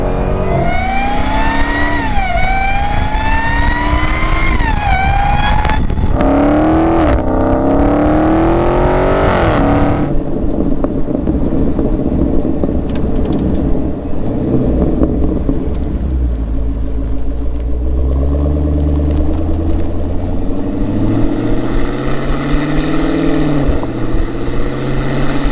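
A Dodge Demon 170's engine revs up and down through its range with paddle-shift gear changes, loud and close, the pitch climbing in repeated sweeps before settling into a deep idling rumble and rising again.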